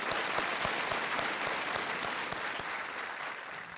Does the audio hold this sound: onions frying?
no